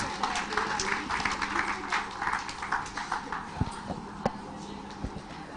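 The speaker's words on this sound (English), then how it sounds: "Please give them a round of applause." An audience at a temple event at Durga Temple, Melbourne claps for a group of children, giving a dense, steady round of applause with scattered sharper claps standing out near the end.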